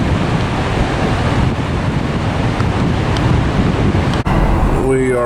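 Strong wind roars steadily against the microphone on the Oregon coast near an arch rock, a loud continuous buffeting rush with surf mixed in, and a brief dropout near the end.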